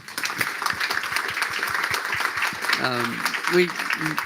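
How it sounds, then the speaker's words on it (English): An audience in a pub setting applauds during a politics talk and book launch, a moderate patter of clapping with voices speaking over it near the end. "could we give a round of applause not just to them, but to the great folk here at Verity Lane"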